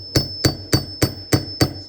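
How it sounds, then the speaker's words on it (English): Hammering on a stuck throttle slide in an Amal 930 motorcycle carburetor: seven sharp metallic taps at a steady, fairly quick rhythm, close and loud. "I'm going to start hammering away"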